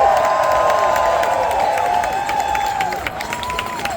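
A huge rally crowd in a stadium cheers and applauds, with a continuous wash of clapping and shouting and rising and falling whoops carrying over the din.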